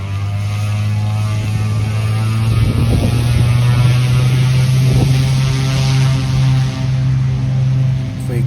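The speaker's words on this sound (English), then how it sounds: "a motor már megy" A propeller aircraft engine running steadily, a loud continuous droning hum that stays level throughout with no speech.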